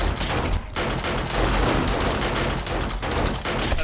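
Sustained heavy gunfire during a zombie horde night in 7 Days to Die Alpha 19 multiplayer, a loud, dense stream of rapid shots with almost no pauses.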